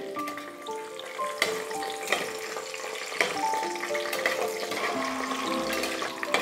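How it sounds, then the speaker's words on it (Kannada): Whole spices fry in hot oil for vegetable pulao, giving a continuous close sizzle with scattered crackles and pops, steady throughout with no voices. "ಎಣ್ಣೆ ಸ್ವಲ್ಪ ಕಾದ ನಂತರ ಈ ಮಸಾಲ ಐಟಮ್ಸ್ಗಳನ್ನು ಈ ರೀತಿ ಒಂದೇ ಸರಿಗೆ ಇದ್ರ ಒಳಗಡೆ ಹಾಕ್ತಾ ಇದ್ದೀನಿ."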